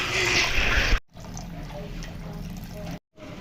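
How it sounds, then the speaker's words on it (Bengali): Rinse water from a mixer jar is poured into a vegetarian eggplant curry with mustard and poppy seed paste, starting as a brief loud splashing pour that fades to a softer trickle. "মিক্সি ধুয়ে জলটা দিয়ে দিচ্ছি"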